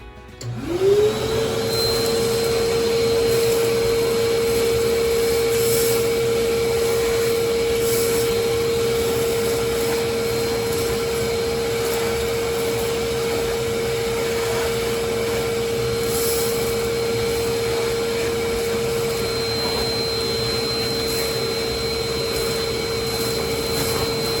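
A loud, steady whine of a Craftsman 12-gallon 5.5-HP corded wet/dry shop vacuum running continuously through a straight hose with no attachments, with rough rattling of debris being sucked up, no voices.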